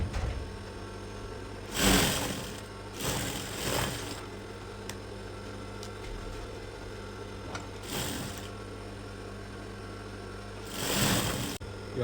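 A sewing machine stitches a seam on a shirt in short bursts of a few seconds each, separated by quieter gaps with a steady low hum in the background.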